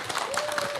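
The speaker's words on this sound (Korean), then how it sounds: "박수 한번 주세요" An audience at a talk concert breaks into a short burst of applause, a lively patter of many hands with a few voices mixed in.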